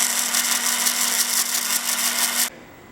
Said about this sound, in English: I bought a brand new blade for my bandsaw, and I'm going to resaw this into several 1/4-inch pieces.